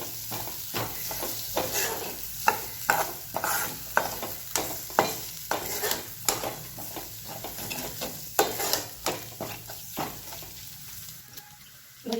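Fenugreek greens mixed with salt and soaked moong dal are stirred in a pan, giving steady, rhythmic scraping strokes roughly twice a second over a soft sizzle, up close.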